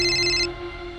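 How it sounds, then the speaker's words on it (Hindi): A mobile phone ringtone rings loudly with a bright repeating tone, then cuts off about halfway through, leaving a steady hum underneath. "सॉरी सर, भैया का फोन है, उठाना पड़ेगा।"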